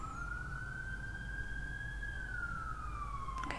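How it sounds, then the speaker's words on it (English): An emergency vehicle siren rises and falls in a slow wail, steady and fairly far off, over a constant low rumble of background traffic. "Okay, sorry, I have sirens in the background."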